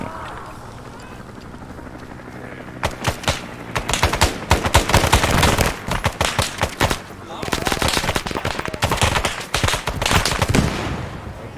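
Dense bursts of automatic gunfire from the Arma 3 SOG Prairie Fire war game, erupting after a quieter stretch with a helicopter-like drone, then rattling in rapid overlapping volleys, loud and close, continuing in waves to the end.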